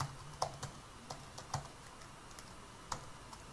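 Light, quick clicks of typing on a computer keyboard, close and fairly quiet, with irregular keystrokes over a few seconds and no speech.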